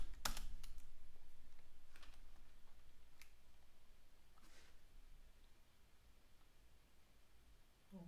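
Soft, irregular clicks of computer keyboard keys being tapped, a few sharper strikes early on, over a steady low hiss of room noise.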